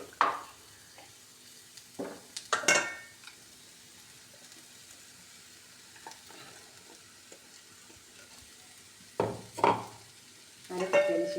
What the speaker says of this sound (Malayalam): പയറും ഉള്ളിയും കൂടെ നമ്മൾ നന്നായിട്ട് ഇളക്കി കൊടുക്കാം.